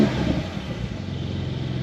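Porsche 992 Carrera S Widebody in Sport Design spec hums with a steady engine note from inside on an A-road drive, continuous and moderately loud without sharp revs.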